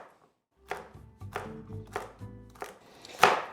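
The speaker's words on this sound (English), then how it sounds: "just slice it lengthwise in half, and then roughly chop." A knife roughly chops celery ribs on a cutting board, about five sharp, close strokes in an uneven rhythm, each a crisp crunch landing on the board, with no talking.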